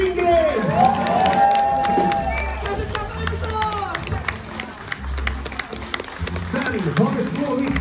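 A concert crowd at a Swedish folk hall claps and cheers for Matilda Lindgren after a band performance, lively applause with shouts mixed into loud chatter and voices over it, some low thumps underneath.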